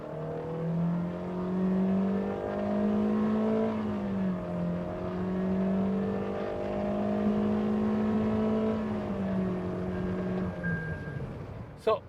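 A Toyota Innova HyCross petrol engine with CVT pulls hard under acceleration, a steady strained drone holding a near-constant pitch with slight surges, heard from inside the car and fading at the end.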